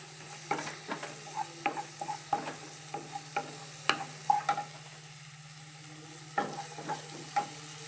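Shallots frying in oil in a pan for a prawn and drumstick curry, with a steady low hum and repeated sharp stirring scrapes and clatters at an uneven rhythm, close and fairly quiet.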